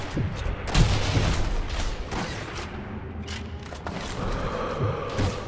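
Sniper rifle shots ring out in the Sniper Elite V2 video game, a few sharp cracks with booming tails against a busy battlefield background, moderately loud and without talk.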